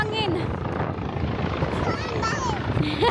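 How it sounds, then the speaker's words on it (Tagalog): A helicopter flying low overhead, its steady rotor roar loud and close throughout as excited voices shout over it. "Because of the helicopter,"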